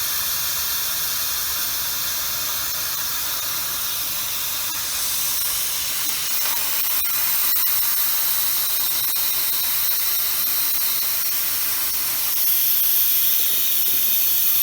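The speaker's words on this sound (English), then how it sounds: "And then I'm just pressing the pressure release." Steady, loud hiss of steam venting from an Instant Pot pressure release valve while a turkey breast cooks, a continuous broadband rush holding alone for the whole stretch with a slight rise near the end.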